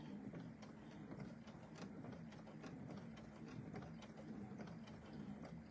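Sewing machine stitching slowly over a thick seam on a mini tote, a steady rapid mechanical clatter with faint ticking, quiet and close.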